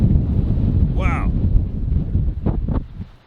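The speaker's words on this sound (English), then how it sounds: "It's windy out here." Loud wind in a sandstorm in a canyon buffets the microphone with low rumbling gusts, while brief vocal sounds break through.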